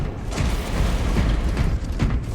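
Powered door mechanism grinding open in Warhammer 40k Space Marine 2, a dense, steady mechanical rumble with creaking and ratcheting texture running continuously at close, loud level, no voices.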